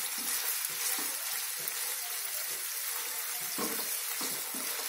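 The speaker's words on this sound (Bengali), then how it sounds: "হালকা ভাবে ফ্রাই হবে।" A pan of ingredients lightly frying over a medium flame for palak paneer sizzles steadily and close, with soft stirring scrapes pulsing through the continuous hiss.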